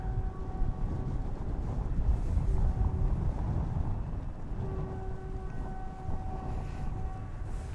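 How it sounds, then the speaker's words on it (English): Faint, distant train whistle tones drift in and out over heavy rumbling wind noise near Dallas/Fort Worth Airport in the early morning, with no talking. "Hear the distant whistle of a train."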